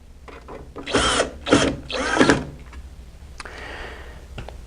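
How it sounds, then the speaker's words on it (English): Screws being driven to mount a SuperParts control panel for an E-Series OSMAC unit, heard as three close, loud buzzing bursts from a driver in quick succession, followed by a faint rasp and light clicks. "Get our screws that came with the control panel. Go ahead and install those."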